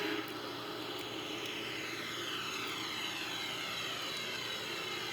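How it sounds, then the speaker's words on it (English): Airbus A340-313X jet engines taxiing onto the runway for takeoff, heard from the cabin as a steady, even engine roar with a faint whine throughout. "So now we'll move on into the runway for takeoff."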